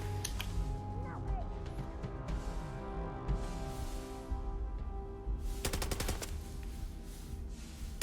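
Gunfire in the video game Starfield: a rapid cluster of sharp shots mid-scene over a dense layer of background game sound and low rumble, moderately loud.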